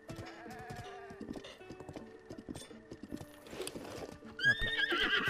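Horse in Zelda Breath of the Wild neighing and trotting near a ranch stable, with close repeated clip-clop hoofbeats and a loud whinny toward the end, alone without talk.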